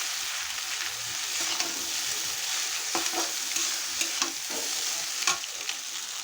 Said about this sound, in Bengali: আমি চাউমিনটা খুব ভালো করে মিশিয়ে নিয়েছি